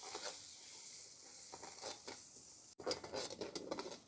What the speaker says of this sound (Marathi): त्याचा कच्चापणा जावोस्तोवर व्यवस्थित फ्राय करून घेऊ।